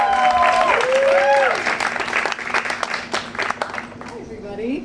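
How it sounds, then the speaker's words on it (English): An audience at a Climate Week event in New York applauds, with clapping bursts and a few whoops while voices ring over the top, before the noise thins toward the end. "So everyone give her a round of applause"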